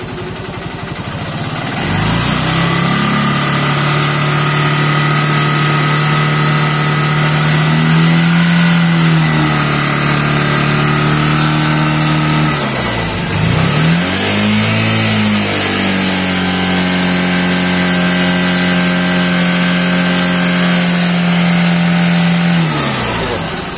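Honda Shine SP motorcycle with a battery fault, idling close by and revved several times, the engine note rising and falling over a steady drone with no talk.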